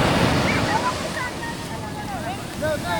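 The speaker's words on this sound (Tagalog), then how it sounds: "Halos kasing tangkad ko yung alon." Large ocean waves surge and crash along the shore at Calabasa, Gabaldon, with a steady roar of surf and wind, and a voice talks over it throughout.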